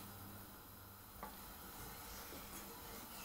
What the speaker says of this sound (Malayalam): പാൽ കുറുക്കി എടുക്കുമ്പോൾ നിങ്ങൾ ഇടയ്ക്കിടയ്ക്ക് ഇങ്ങനെ ഇളക്കി കൊടുത്തുകൊണ്ടിരിക്കണം.